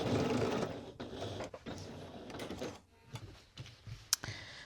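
A home sewing machine stitches across the top of a zipper on a bomber jacket, running in short bursts of rapid mechanical clatter with brief pauses, close and fairly quiet.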